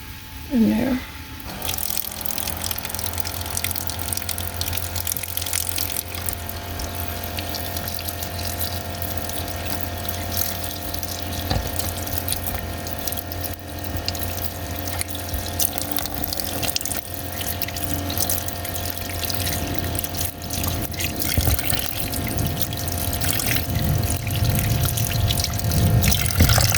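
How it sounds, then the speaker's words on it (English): Water runs steadily from a sink tap in a camper van fed by an electric pump, a continuous close hiss and low pump hum lasting throughout with a brief clatter at the start. "I'm just going to run some water"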